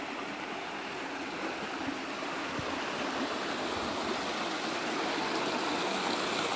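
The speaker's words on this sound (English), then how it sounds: "A little stream, nice sounding water to sleep by at night." A small babbling creek runs over rocks beside a grotto on a rural property, giving a steady, close, rushing trickle that stays even throughout with no voices.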